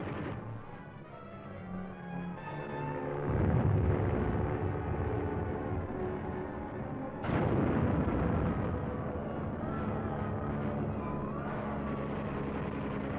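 Attack aircraft in a Korean War film dive on enemy positions, strafing and bombing: a loud, continuous roar of engines and blasts with a sharp explosive burst midway, over layered music and effects throughout.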